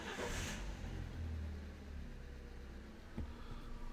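A 2010 Fiat Punto Evo 1.4 cranking with an intermittent brake booster pressure sensor fault, a low rumbling starter turning the engine over, fairly faint and close, with a brief knock near the end.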